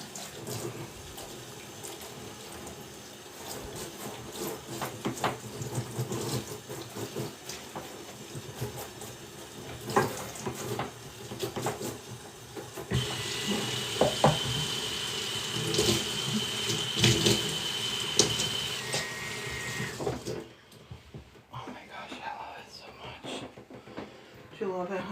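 Water from a hose runs into a big utility sink, a steady rushing splash that rises and falls as something is washed off, with voices talking over it before it cuts off near the end.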